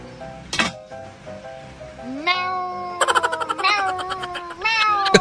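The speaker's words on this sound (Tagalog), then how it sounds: "Kakaibang pusa to ah. Meow daw" A cat meows several times in close succession, loud and near, its cries rising and wavering in pitch over the span, with a sharp clatter early on and no talk.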